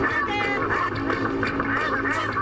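A dense chorus of ducks quacking together, loud and continuous, many birds calling over one another up close.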